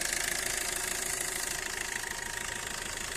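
The diesel engine of a 2017 Maruti Suzuki S-Cross Zeta idles with a close, steady, even rumble and a faint rhythmic knock, and no voices.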